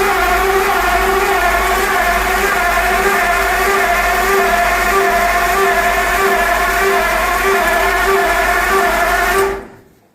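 A 1941 Ford fitted with a Thornton Tandem flathead V8 churns steadily and loudly for about nine seconds with a constant droning hum, then cuts off abruptly into silence.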